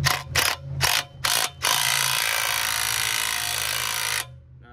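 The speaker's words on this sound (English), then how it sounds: "So we're gonna try the 3/8 on there, impact, and see if it does anything besides strip the bolt" A 3/8 impact wrench works a rear bushing bolt on a 1989 Mustang GT, loud close-up bursts of rattling hammering in several short pulses, then one sustained run of about three seconds before cutting off.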